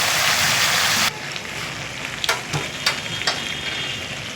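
Cumin seeds and chopped ridge gourd fry in hot oil with a loud, steady sizzle, which drops after a moment as stirring continues, with a few scraping strokes against the pan close by.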